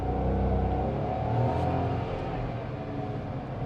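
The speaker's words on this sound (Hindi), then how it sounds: "अब इसको थोड़ा सा रेव करते हैं" The 1.0-litre engine of a Nissan Magnite AMT revs, a loud, close, sustained drone that rises slightly, then eases off and steadies.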